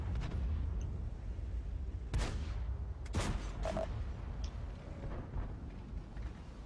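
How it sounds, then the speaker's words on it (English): Tank cannon fire from a T20 in a video game, a few sharp booming shots standing out over a low rumbling battle ambience, with no talk. "I hurried that shot"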